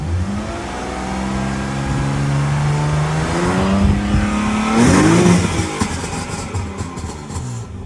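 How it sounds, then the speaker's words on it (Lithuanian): A BMW E36's engine revs slowly and steadily upward, rising gradually before dropping back, loud and close with no talking. "Iš lėto gazuojant."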